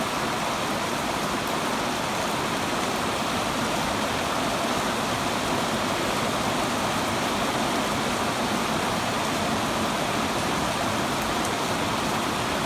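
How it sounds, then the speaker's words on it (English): Heavy rain from a small storm cell pours down near a house and barn, a steady, even, broadband wash of water lasting throughout with no speech. "Just one little cell has a lot of rain in it."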